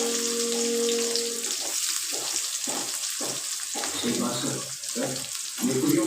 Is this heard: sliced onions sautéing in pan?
yes